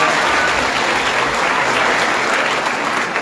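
Dense, loud applause from a large audience at a college gathering in Fiji during a religious discourse, sustained throughout with no pause.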